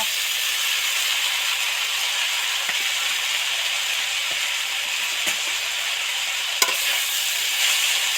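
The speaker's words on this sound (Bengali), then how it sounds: "আস্তে আস্তে নাড়বো নেড়ে নেড়ে মিশিয়ে দেব" Kulchi greens frying in hot spiced oil, a loud, steady, close sizzle and hiss that runs throughout, with occasional faint scrapes and taps of the spatula as they are stirred.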